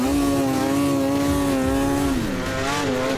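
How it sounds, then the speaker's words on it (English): A Polaris Assault 800 snowmobile with a 144-inch, 1 3/8 Cobra track runs at steady high revs, a loud, close and continuous two-stroke drone. The pitch holds level, then dips briefly and climbs back. "It's a very good all-purpose sled from deep snow, trail riding. That machine does it all."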